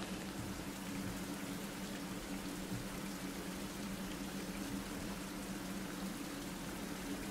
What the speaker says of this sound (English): I'm fully freaking wet from the rain over there